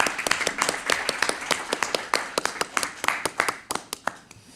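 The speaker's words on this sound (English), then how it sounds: "can we give a round of applause for the communications team?" A small group at a committee meeting claps, a brief round of distinct, fairly close hand claps that thins into scattered individual claps toward the end.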